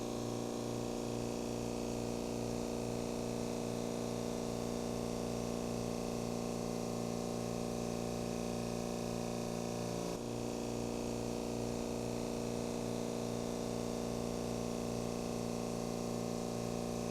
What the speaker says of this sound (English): turn on and adjust the vacuum for a fast drip sample flow